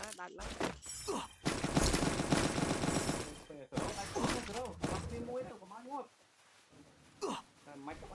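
Rapid bursts of gunfire in the Free Fire mobile shooter game, a loud sustained volley followed by scattered shots, with a player talking over and between them.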